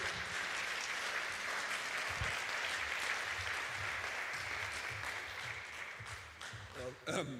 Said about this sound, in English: Please give a round of applause to Dr. Aubrey de Grey